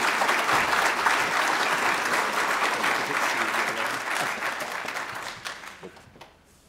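A live audience gives sustained, dense applause to welcome speaker Bill Butterworth onto the platform, loud and steady at first before tapering off and fading near the end.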